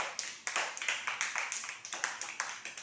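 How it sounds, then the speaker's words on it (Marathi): A group of children clap together in a fairly quick, uneven rhythm, a continuous run of sharp claps at moderate distance with no talking. "टाळ्या वाजवा सर्वांनी."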